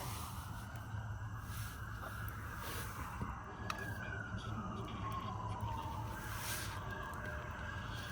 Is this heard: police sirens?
yes